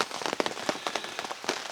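Steady rain patters on a surface beside a lake during a fishing trip, with dense, close drops and occasional louder splats, no talking.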